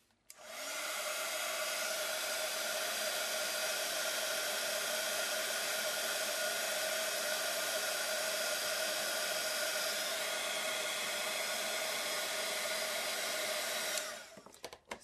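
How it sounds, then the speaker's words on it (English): A handheld heat tool blows for about fourteen seconds while drying a craft flower being turned into a butterfly, a close, steady whooshing whine that starts abruptly, holds level throughout, then cuts off. "I could probably speed up the drying time here with my heat tool."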